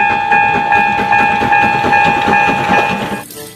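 A Thomas toy train runs steadily with a continuous motorized whir and tonal electronic sound effect, fairly close and loud, then stops abruptly near the end.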